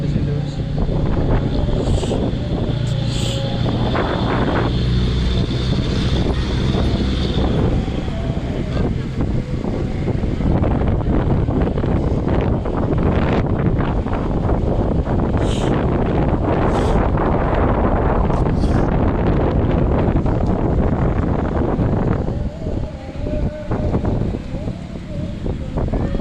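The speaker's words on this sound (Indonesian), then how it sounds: "Angin cukup kencang Tribuners" Strong wind gusts across a bay beside the floating mosque in Parepare, roaring steadily and buffeting the microphone throughout, with someone speaking over it.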